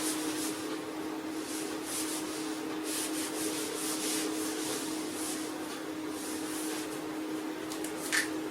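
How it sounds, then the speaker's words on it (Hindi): A duster or cloth wipes writing off a classroom board during a maths lesson, a steady soft rubbing and scrubbing that runs on evenly and close by with no talk. "चलिए मैं इसे रब कर देता हूँ।"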